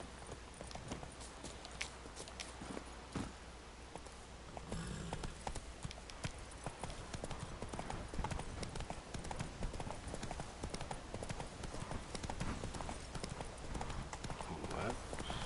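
Hoofbeats of the horse Roach pound steadily at a gallop in The Witcher 3, a continuous rapid clip-clop that runs throughout at moderate loudness, with someone talking over it.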